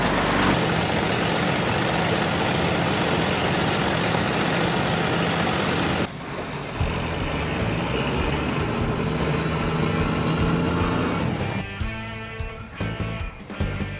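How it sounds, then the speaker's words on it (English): A 4x4 Maxter fertiliser spreader truck's engine runs loud and steady nearby, with its tone shifting partway through as it settles into a rougher, uneven rumble. "Andrew's 4x4 Maxter is typical of the type of vehicle that has been put into harness for this type of work."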